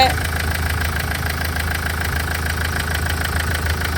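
Steady low rumble of a 2013 Mahindra Verito diesel car engine idling with a regular mechanical ticking pulse, close and continuous throughout.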